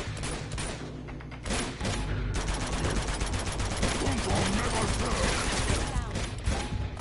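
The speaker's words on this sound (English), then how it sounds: "Just keep shooting." Sustained gunfire in Uncharted 2 with rapid automatic bursts and clattering shots blending into a dense, loud barrage, a player voice talking over it.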